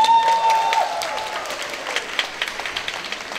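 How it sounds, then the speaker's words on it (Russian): A concert hall crowd at the closing of a philharmonic pop orchestra's rock-hits season applauds, loud and full at first, then thinning toward scattered individual claps, with a brief tonal note at the start. "Ваш аплодисменты!"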